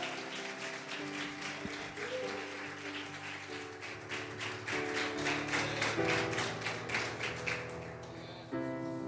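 A church congregation claps during a sermon, a steady rhythmic beat of hands over sustained music with organ-like tones, the clapping growing fuller toward the end.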